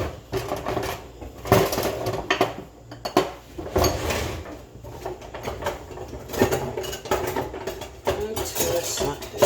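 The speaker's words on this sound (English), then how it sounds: "Let me grab my double spatula so I can take my veggies and the pasta out together real good" Kitchen utensils clatter and clink in repeated bursts as someone rummages for a double spatula, metal tools knocking against each other and dishes at close range, with brief pauses between handfuls.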